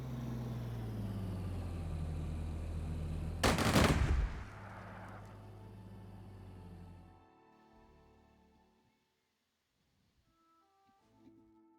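A sudden burst of gunfire erupts from the WWII strategy game Strategic Mind: Blitzkrieg, set in the Spanish Civil War, cutting loudly through a steady droning soundtrack that later thins out to near silence.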